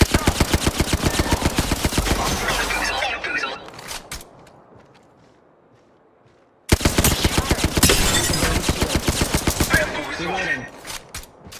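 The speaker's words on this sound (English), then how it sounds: "I'm getting shot." Rapid automatic gunfire in a futuristic shooter game, loud bursts for the first few seconds, a quiet lull, then another sustained fusillade with voices speaking over the shots.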